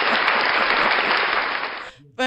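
Studio audience at a talk show clapping loudly and steadily in a dense burst, then the applause cuts off abruptly, followed by a brief moment of talk.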